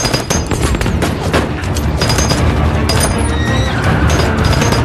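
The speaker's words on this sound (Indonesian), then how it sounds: "terkena tembakan oleh polisi" Rapid bursts of police gunfire crackle through a dense, chaotic action mix, loud and continuous, with sharp repeated cracks over a rumbling background.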